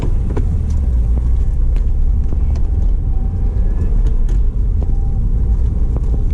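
A stock 2015 Subaru WRX engine revs loud and close, and the revs hang before they fall away. A steady low rumble carries on throughout with wind buffeting.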